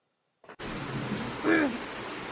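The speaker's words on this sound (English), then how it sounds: "Oh, there's the storm." Rain pours steadily during a thunderstorm after a brief click, a constant hiss of downpour with a low rumble swelling in the middle, heard alone at moderate distance.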